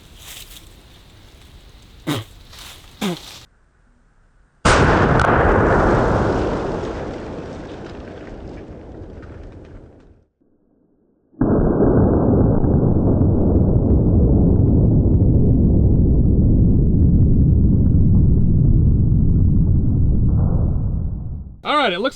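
Two heavy .50 BMG shots fired with 660 grain military ball rounds at a kettlebell, each a sudden loud blast followed by a long roaring decay, separated by a brief silence.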